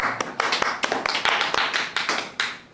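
A brief round of brisk, close clapping from a small group welcoming a guest on a podcast, the claps irregular and overlapping, with no talking.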